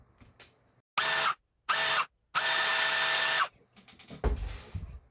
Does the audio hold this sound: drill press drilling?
yes